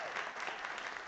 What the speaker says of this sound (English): Can we all just give a round of applause for each of the women who came up?